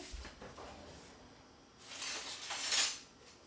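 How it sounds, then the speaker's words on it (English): Cream and starch go into a pan of sea salt caramel sauce, heard as a soft hissing, bubbling pour that swells late, with a light earlier clink of utensils. The sound is quiet and has no talking. "I am about to put more cream, and I melt some starch in"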